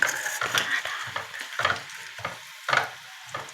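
Food frying twice in hot oil until crisp, with a steady sizzle broken by repeated scraping and stirring clinks of a utensil against the pan.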